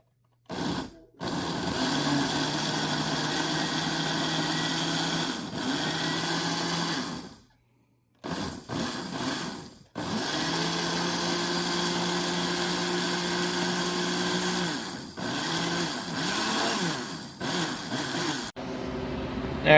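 A Harvest Right medium five-tray freeze dryer runs with a steady, whining motor hum that cuts out and restarts a few times, close and continuous with no talk.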